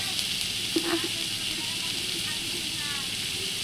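Chickpeas and potatoes fry lightly in a pan with a steady, even sizzle throughout, a soft clatter of stirring near the start and faint voices in the background.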